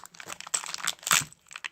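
A small plastic bag holding LEGO collectible minifigures crinkles and rustles as it is handled and opened, a close, busy series of crackly crunches with brief pauses.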